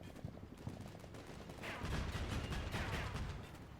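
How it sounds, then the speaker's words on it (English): Autocannon fire in the Cold War tactical game Combat Mission, a quiet run of rapid repeated shots and distant rumbling bursts with no talk over it. "One of my M60s is panicked by autocannon."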